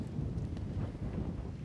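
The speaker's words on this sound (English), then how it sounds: "Crazy gust." A strong wind gust sweeps across an outdoor golf course, a steady, loud broadband rumble buffeting the microphone for under two seconds with no speech.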